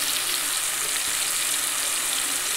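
Spice masala fries in oil for a Maharashtrian katachi amti, giving a steady, even hiss of sizzling close up that runs unbroken throughout.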